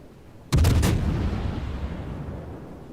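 A single heavy naval gun salvo from the German cruiser Hindenburg in World of Warships, one loud close boom followed by a long rumbling decay that fades slowly, with no voices.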